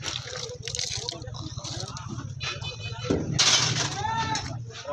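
Zamzam water is poured out onto the ground at a house foundation, a steady splashing trickle that swells louder toward the end, with a voice speaking quietly underneath.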